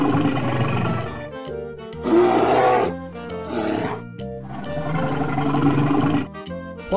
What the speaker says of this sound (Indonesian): Wah, besar sekali beruangnya.